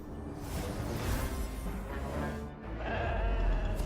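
Drawn-out sheep bleats from the slumber sheep in the video game Infinity Nikki ring out over a busy, game-like background, loud and close, with a second bleating cry following a brief dip.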